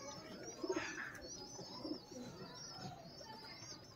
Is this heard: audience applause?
no